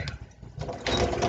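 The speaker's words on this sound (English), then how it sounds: "we're going to sew on this side" Sewing machine stitching along one side of a fabric tube with dark thread, a steady mechanical whir that quiets briefly and then runs louder and continuous toward the end.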